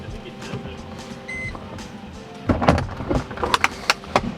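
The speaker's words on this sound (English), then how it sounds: "the windows go up" Power windows on a Mercedes-Benz SL R129 hum faintly as they rise, with a brief electronic beep and some knocks and handling noises, while a person talks over the later part.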